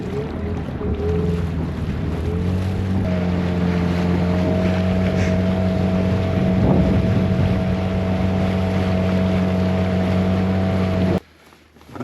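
A motorboat engine drones steadily on a river, used for fishing from a new boat on the Algeti, with a constant low hum and wind across the microphone before the engine cuts out near the end.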